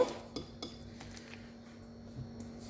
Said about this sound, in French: Mélangez bien, que ça s'incorpore à notre purée maison.